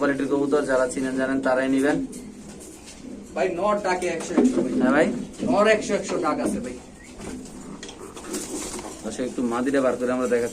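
Caged pigeons, including a white male offered for sale at a market, coo repeatedly in loud, close, rolling calls, with people talking faintly in the background.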